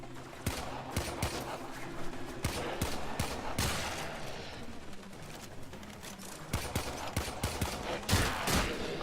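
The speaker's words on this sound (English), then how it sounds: "as you can hear, these pistols are very loud" Rapid pistol gunfire from the video game Warframe, a dense run of sharp, loud shots cracking in irregular bursts over a constant game-ambience bed, with no voice over it.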